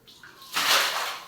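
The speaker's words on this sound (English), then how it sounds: "Just pour the water to every side of the house." Clean water is poured from a container onto the floor of a poultry house, a short trickle that swells into a loud rushing splash across the floor.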